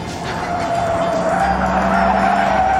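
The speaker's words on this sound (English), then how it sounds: "Tyre squeal from the 1970s." A car's tyres squeal loudly and continuously during a skid at a 1970s motoring challenge, the screech sustained alongside a steady engine drone with no talk.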